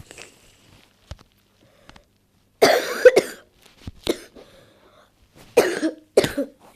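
A few close coughing fits from a sick man, separated by quiet stretches, with small clicks and rustles in between.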